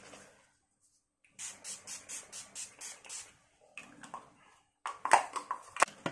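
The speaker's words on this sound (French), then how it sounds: "Je vais mettre un coup de spray fixateur pour que le fard pailleté tienne" Setting spray is pumped onto a face in a quick run of about eight short, close hissing bursts, followed by softer rustles and a few sharper sprays and clicks.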